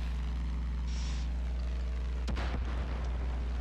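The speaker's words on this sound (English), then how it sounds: "Did you hear that explosion?" A Far Cry 5 video game explosion hits as a single sudden boom midway, rumbling briefly over a constant low engine-like drone, with no talking.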